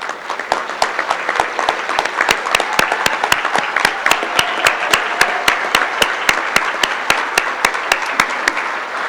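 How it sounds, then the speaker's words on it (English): Steady applause from attendees at a softball Hall of Fame induction ceremony, with clear individual claps forming a dense, even rhythm throughout, fairly close and unbroken, with no talking over it. "please stand up for a round of applause."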